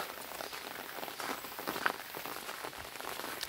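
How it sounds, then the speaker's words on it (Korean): Steady rain patters on a vegetable garden planted with tomatoes and young cabbages, a dense, even hiss of drops close by with no talking. "빗소리 들으죠?"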